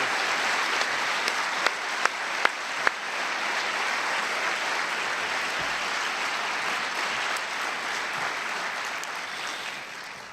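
An audience at Discover NPS Day applauds warmly to welcome keynote speaker Thomas Friedman, a sustained, dense clapping that carries on evenly for about ten seconds and tapers slightly at the end.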